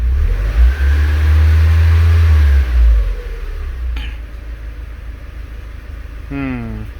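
A repaired project car engine runs close by at a loud, steady idle with a deep rumble that briefly swells early on before settling, with a short voice heard near the end.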